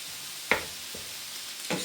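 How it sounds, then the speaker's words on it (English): Mince sizzles softly in a pan, and a few sharp scraping and stirring knocks sound as a spatula breaks the meat up. "I'm just going to break this mince up"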